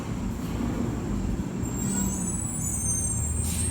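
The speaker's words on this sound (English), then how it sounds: "garbage truck." A garbage truck nearby gives a continuous low engine rumble with a hissing, brake-like edge that stays steady throughout, and no one speaks.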